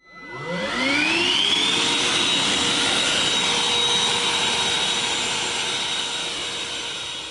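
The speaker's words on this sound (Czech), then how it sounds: "Teď si pustíme zvuk vysavače." A Bosch GAS 18V-10L Professional cordless vacuum cleaner motor spins up with a rising whine, then holds a steady high-pitched hum and airy rush, close and alone.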